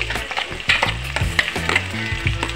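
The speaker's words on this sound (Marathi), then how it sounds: "आणि आता यामध्ये कांदा टाकून घेणार आहे।" Chopped onion hits oil in a pan for a sprouted matki (moth bean) curry, sizzling steadily with several stirring scrapes and clatters up close, no talk.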